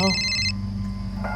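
A telephone rings briefly in a crime drama scene, a bright electronic trill lasting about half a second before cutting off, followed by a steady low hum.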